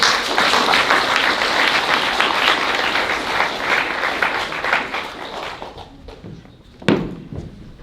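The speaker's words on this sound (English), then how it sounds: "let's give a big round of applause for Jace Brittain" Audience at a literary reading applauding for poet Jace Brittain, loud sustained clapping that thins out and fades, followed by a sharp knock or thump near the end.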